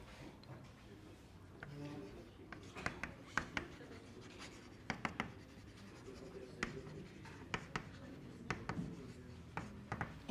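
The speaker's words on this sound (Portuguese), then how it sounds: "deixa eu escrever aqui" Chalk or marker writing on a board during a calculus lecture, with quick scratchy strokes and taps in uneven bursts while someone speaks quietly underneath.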